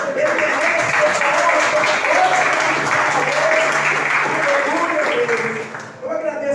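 Church congregation applauding during a worship service, a loud, dense and sustained clapping from a large crowd that fades toward the end, with voices mixed in beneath it.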